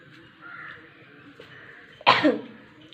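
A single sharp cough bursts out close by after asafoetida powder is added to homemade mango pickle, following a few seconds of quiet background.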